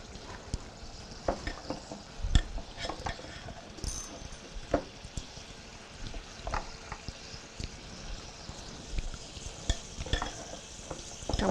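A spoon stirs a sugar and flour mixture for an apple pie topping in a home kitchen. It gives a run of close, irregular scrapes and soft clinks against the bowl.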